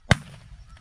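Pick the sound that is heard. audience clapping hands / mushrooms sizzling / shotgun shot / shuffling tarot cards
shotgun shot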